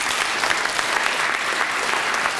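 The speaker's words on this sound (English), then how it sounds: "Big round of applause" An audience at a school event claps in a big round of applause, a dense, continuous roar of many hands at steady volume, with no voices over it.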